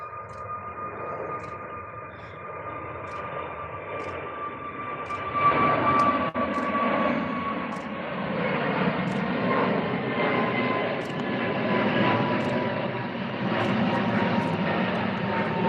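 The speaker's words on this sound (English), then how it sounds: "There's another go around." A jet airliner goes around at Manchester Airport, its engines roaring in a broad, sustained rumble that swells from a distance and stays loud and continuous overhead.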